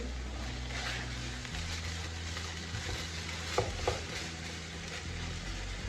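Palak masala with garam masala and kasuri methi roasting on high heat, a steady hiss of frying with a couple of brief spoon scrapes against the pan, no talk.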